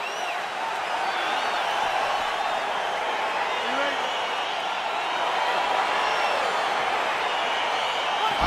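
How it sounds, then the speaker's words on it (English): An excited crowd cheers steadily as a UFC fight gets underway, a broad, sustained roar of many voices with no breaks, while a commentator's voice is mixed in. "crowd getting excited as this fight gets underway"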